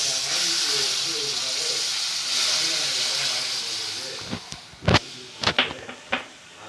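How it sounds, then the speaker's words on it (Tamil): Warm milk is poured into a bechamel roux in a pan, giving a steady close hiss and sizzle for several seconds, followed by a few sharp clunks and knocks of a utensil against the pan. "இப்போ வந்து இந்த 80 ml மில்கை ஆட் பண்ண போகிறேன்."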